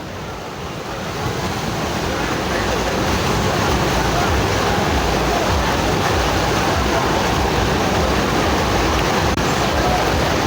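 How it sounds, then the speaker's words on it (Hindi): Flowing Ganges river water at Haridwar during heavy rain, a loud continuous rushing wash with gusty wind noise on the microphone, steady throughout and building slightly after the first second. "यहाँ से लहरों की आवाज़ भी सुनिए।"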